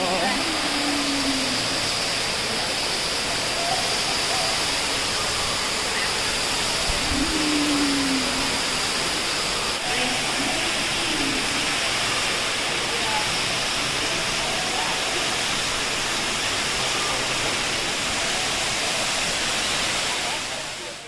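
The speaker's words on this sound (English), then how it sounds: "Here's the base of the waterfall." A waterfall inside The Leaf, an indoor biodome in Winnipeg, gives a steady, dense rushing roar that holds at an even loudness throughout, with a few faint chirps over the wash.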